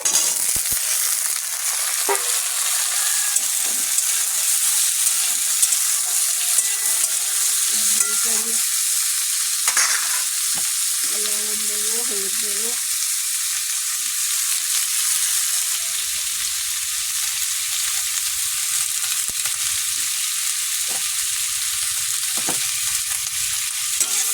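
Dried chillies, garlic and potatoes fry in a pan with a steady, bright hiss of oil that runs unbroken, close by and moderately loud, with a few faint clinks and no speech.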